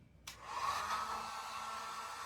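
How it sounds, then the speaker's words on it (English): A heat gun switches on with a click and blows hot air steadily to dry freshly airbrushed paint on a truck hood, a close, even whooshing whir without talk. "I have a heat gun here. I'm going to try and heat it so it'll dry faster"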